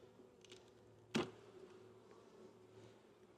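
Honey bees buzz faintly around an opened hive in Texas during honey extraction, with one brief, sharp clack standing out over the low, steady background hum.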